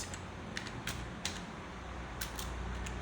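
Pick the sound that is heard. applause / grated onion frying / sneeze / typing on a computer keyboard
typing on a computer keyboard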